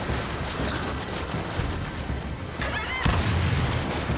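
Gunfire in the video game Gears 5 rattles in dense, continuous bursts with heavy booms, loud and close, rising into a harder blast of shots near the end.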